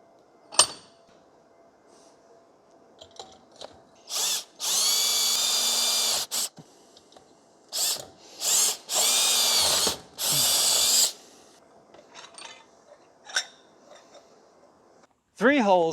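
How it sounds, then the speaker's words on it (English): A power drill boring holes into steel side rails of a plasma cutting table clamped in a vise, several loud whirring bursts of a few seconds each, separated by quiet pauses with small clicks and handling noises. "Three holes have to be drilled into the bottom slot of the 2-foot-long side rails."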